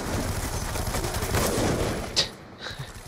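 A sniper rifle fires a no-scope shot in a video game, a sharp crack that stands out briefly against a steady wash of distant gunfire and battle noise, followed by a smaller echoing report.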